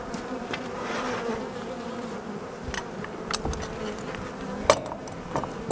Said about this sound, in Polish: Teraz jestem przed ulem numer 14. To jest podkarpacki Buckfast.